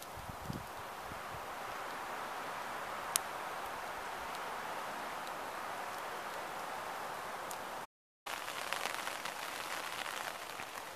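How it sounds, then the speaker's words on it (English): Steady rain falls around a campsite on a cold night, a dense, even hiss of drops pattering on surfaces that continues throughout, with a brief dropout near the end and no talking. "Dang! It's raining. Not in the forecast, but it's raining."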